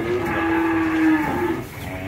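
Breeding cows mooing, with a long, loud, close low moo that holds steady and then fades into a shorter second call, with no voices.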